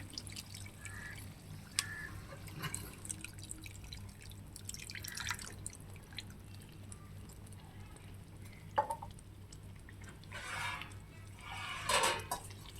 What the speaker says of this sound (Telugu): చూసారా ఉడుకుతుంది అలాగా.